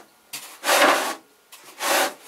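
A cutting tool trims the edge off a thin sheet of marbling clay in two separate scraping passes, each a loud, close, rasping rub with a quiet gap between them.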